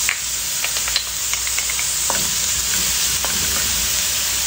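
Ginger, onion and garlic sizzle and crackle steadily in a hot pan, a close, constant frying hiss with occasional stirring scrapes and pops, no voices.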